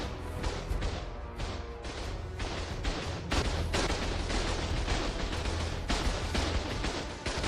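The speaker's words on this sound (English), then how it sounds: "our turrets are doing work." Automated turrets fire continuously in the video game Ark Lost Colony, a dense, loud barrage of rapid shots and crashes running through the whole stretch with no pause.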